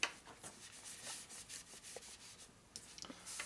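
Hand sanding with 2000 grit sandpaper on a part for a stroker Shovelhead big-bore Harley motor build, a soft, steady rubbing hiss of back-and-forth strokes, faint and close, with no voices.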